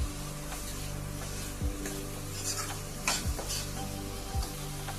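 Potatoes sizzle in hot oil with ground turmeric, coriander, cumin and dried chilli for a village-style paneer and soya chunk curry, with a steady frying hiss and a few scraping stirs of a spoon against the pan.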